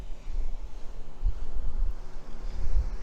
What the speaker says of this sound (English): there is a ski boat going by right now